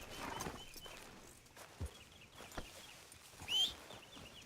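Horse hooves clip-clop faintly in Red Dead Redemption 2 gameplay, irregular soft steps mixed with a brief whinny-like sound and quiet game ambience.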